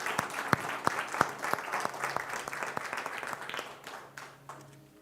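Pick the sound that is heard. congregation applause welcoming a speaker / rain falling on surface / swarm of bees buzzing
congregation applause welcoming a speaker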